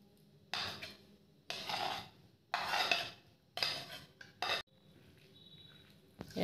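Raw pork mixed by hand with turmeric, cumin, coriander, red chili powder, salt and raw oil in a bowl, heard as bursts of squelchy rubbing and mixing with soft clinks against the dish and quiet pauses between.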